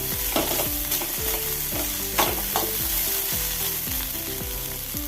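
Bitter gourd thoran, Kerala style, stirred in a hot pan: loud, close sizzling with repeated scraping strokes of a spoon against the pan in an uneven rhythm, with no voices.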